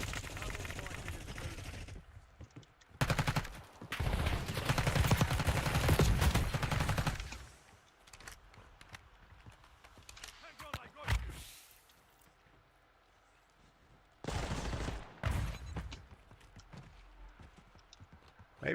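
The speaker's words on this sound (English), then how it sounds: "We're just kind of running around shooting at people." Video game gunfire from a live-streamed shooter, with loud dense bursts of shots between about 3 and 7.5 seconds and again near 15 seconds, and quieter stretches of movement and scattered noise in between.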